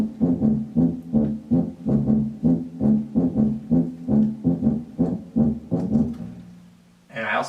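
Tuba in fast-paced fight scene music, playing a steady run of short, punchy low notes in an even rhythm, loud and close, ending on a brief pause.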